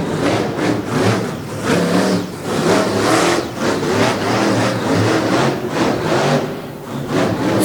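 A Roush Yates–powered monster truck engine revs loud and steady at a monster truck marathon in Salisbury, the throttle swelling and dipping in a continuous rumbling roar with crowd noise behind.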